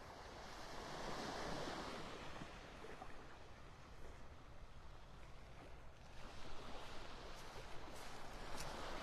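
Surf breaking steadily along an eroding beach in North Naples, Florida, a continuous broadband wash of waves with gusty wind noise on the microphone, swelling louder near the start and again toward the end.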